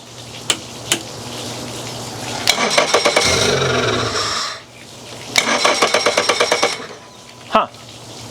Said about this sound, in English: I'm gonna try to start it again.